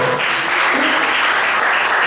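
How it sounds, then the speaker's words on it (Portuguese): A church congregation applauds after a Bible reading: loud, dense, continuous clapping filling the room for the whole two seconds, with no gaps. "Vamos aplaudir a palavra do Senhor."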